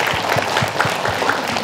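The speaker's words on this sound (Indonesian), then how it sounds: "Masya Allah, tepuk tangan lo." Congregation at a majelis taklim Islamic study gathering claps in a brief, steady burst of applause, moderately loud and continuous.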